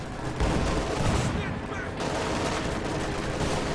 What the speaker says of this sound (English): Panther trying to use its pintle mount MG